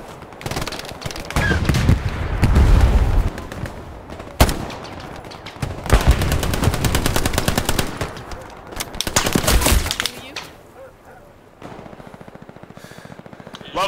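Bursts of rifle and machine-gun fire in the WWII shooter Hell Let Loose during house-to-house fighting, rapid cracks and sustained volleys at varying distance, loud and dense, then dropping to a quieter lull.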